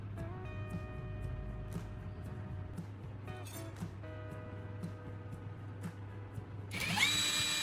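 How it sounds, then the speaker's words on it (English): A small drill fitted with ceramic and toothpaste runs along a kitchen knife blade to sharpen it, giving a steady, thin whine with faint ticks and scrapes, then a harsher, higher grinding screech near the end. "helping to refine the blade's edge as I run the drill along it"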